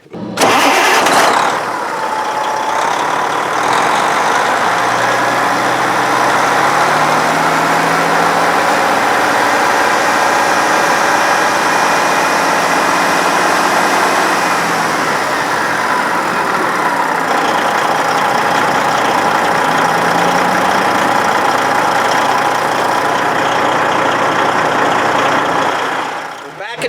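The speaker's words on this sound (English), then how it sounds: "Truck's running." A Detroit Diesel 60 Series truck engine is started after a fuel pump replacement and settles into a loud, steady idle that runs close by for nearly half a minute before cutting off.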